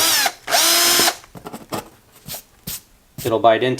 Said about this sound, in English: you can take your drill bit and it'll it'll bite into